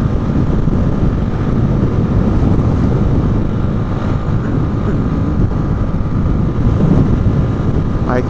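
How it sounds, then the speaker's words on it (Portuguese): Strong, gusting wind roars steadily across a motorcycle rider's microphone during a ride through São Paulo traffic, a loud broadband rush that never lets up. "o vento tá chato e forte"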